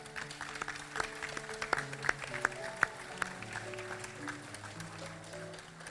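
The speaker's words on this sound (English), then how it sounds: "A round of applause for our Year 7s." Applause from a school assembly audience for Year 7 academic award winners, moderate and steady with a few sharper claps standing out, over a faint sustained musical tone.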